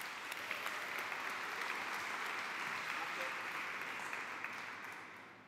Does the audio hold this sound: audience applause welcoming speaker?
yes